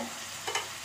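Ginger garlic paste and mint sauté in a hot pan, a soft steady sizzle with a couple of quick stirring scrapes, close and alone.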